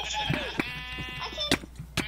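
Sheep bleating inside the Minecraft video game, several short wavering calls close together with game clicks between them.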